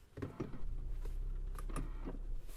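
A short mechanical whir and a few soft clunks from inside an Audi A3 Sedan 35 TFSI with S-Tronic transmission, as the gear selector is moved into P, against a low steady hum.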